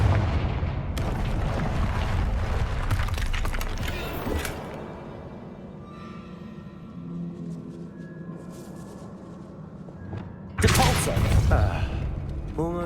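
Confringo blasting spell in Hogwarts Legacy: a loud booming blast with rumbling debris that fades, followed by a second sharp explosive burst near the end.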